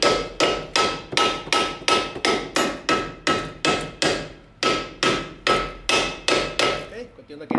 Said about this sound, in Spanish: Le damos unos golpecitos aquí abajo.